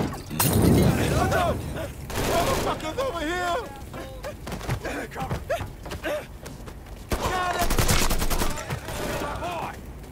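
Gunfire in the video game Mafia 3: bursts of rapid shots and sharp cracks over several seconds, mixed with in-game voices and shouting that run under and between the firing.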